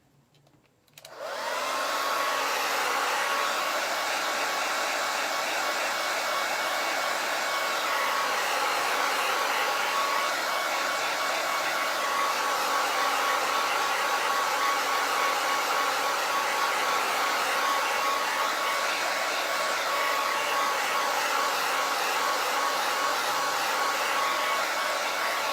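A hair dryer blows steadily on a wet craft piece, switching on abruptly and then roaring at a constant close, loud whoosh that holds for the whole stretch without any talk.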